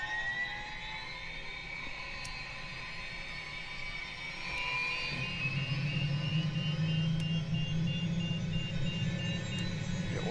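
The engine of a Shrike 530F aircraft in a flight simulator game spools up from a steady whine, with a deeper turbine rumble building about halfway through and continuing loudly to the end.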